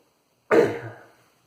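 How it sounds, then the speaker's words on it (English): A single abrupt cough, close and fairly loud, trailing off quickly into silence. "Excuse my cough."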